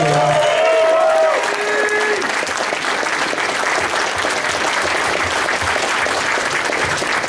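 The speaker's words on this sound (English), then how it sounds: "Guys, give a round of applause for Crazy Corgi." A convention audience at a furry event's closing ceremony breaks into loud, sustained applause for a guest, a dense wash of clapping with some cheering and a voice fading out at the start.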